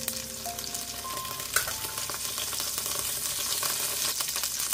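Whole cumin seeds sizzle in hot oil, with cinnamon, cardamom, cloves and black pepper added to the pan, making a close, continuous crackle with one sharp pop partway through.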